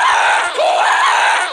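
Loud, harsh scream from Minecraft mobs in the 1.16 video game, a single sustained shriek that wavers in pitch and fills the whole moment.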